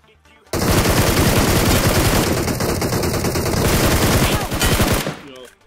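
Loud automatic gunfire in a video game roars almost nonstop for about five seconds, a dense rapid stream of shots with brief pauses, then cuts off abruptly.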